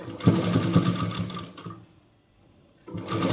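A sewing machine runs an edge stitch along a petticoat in fast, steady bursts that stop briefly, leaving near silence, before the stitching starts again.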